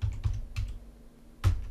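Several keystrokes on a computer keyboard while an HTML5 file structure is typed, a few quick taps in a cluster, a pause, then one firm tap, close and fairly clear.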